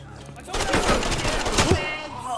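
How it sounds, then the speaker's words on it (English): Gunfire in the tactical shooter Ready or Not, a dense crackling volley of rapid shots lasting about a second, loud and close. "Who's shooting at you?"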